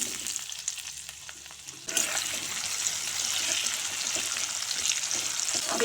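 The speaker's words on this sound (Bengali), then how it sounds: "পেঁয়াজ এভাবে নেড়ে চেড়ে হালকা ভেজে নেব।" Chopped onion fries in a little oil left from frying potatoes, a soft hiss that swells into a louder, continuous sizzle after a couple of seconds, with faint stirring noises mixed in.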